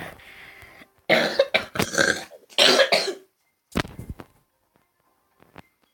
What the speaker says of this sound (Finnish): Pikku yskäsy, ei siinä mitään.